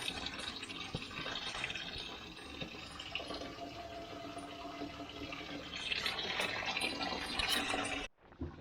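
Water rushes and splashes steadily out of a central heating system as it drains during a new installation, loud and continuous for several seconds, then cuts off abruptly near the end.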